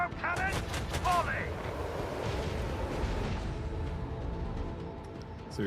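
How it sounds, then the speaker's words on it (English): A macro cannon volley in the Rogue Trader video game rumbles as a long, dense roll of booming gunfire, with a few tonal game effects at the start and no speech. "Macro cannon, volley!"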